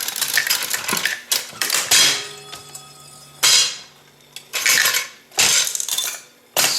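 A Mills Dice Payout Craps slot machine tumbles its dice mechanism, giving bursts of sharp metallic rattling and clattering, separated by short pauses and a faint ringing hum, all close up with no talking.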